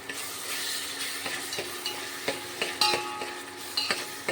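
Food frying in a pan gives a steady close sizzle, with stirring scrapes and light clinks of a utensil against the pan, growing a little busier toward the end.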